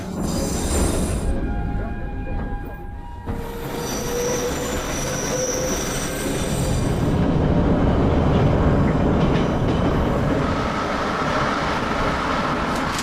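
An old, renovated metro train car runs along the track with a loud, continuous rumble, and its wheels squeal in sustained high-pitched tones through most of the ride.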